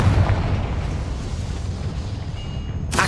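A Confringo spell blast in Hogwarts Legacy sends out a broad, rumbling explosion that fills the space with a sustained roar, ending in a sudden bright crack near the close.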